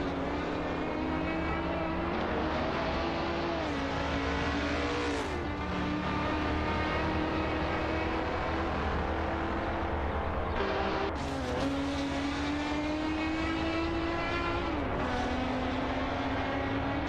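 Chevrolet Corvette race cars in an AI racing video game, with steady engine drone and pitch rising and dropping through gear shifts, a loud continuous roar with sharp downshifts near the middle and end.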